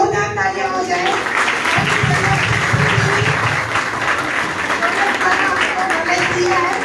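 An audience at a health and wellbeing training session applauds the trainer, dense steady clapping filling the room at close range, with voices talking over it.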